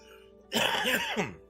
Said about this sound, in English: so I apologize for the coughing